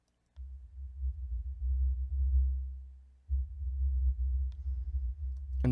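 A deep, smooth sine-like bass tone, a single sine wave isolated from a sample recorded in space, holds steady, briefly drops out, then returns and sustains, loud and low with no other sounds.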